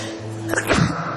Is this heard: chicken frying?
no